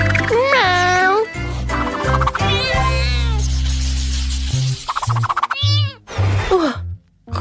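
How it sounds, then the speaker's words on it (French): A cat meowing in repeated rising and falling cries, loud and close, with some overlapping chatter and background music. "Miaou."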